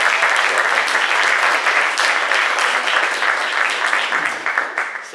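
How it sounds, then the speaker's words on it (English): Conference audience applauding panelists at the close of a panel, loud steady clapping from many hands that thins and fades toward the end. "I think a big round of applause is perfect"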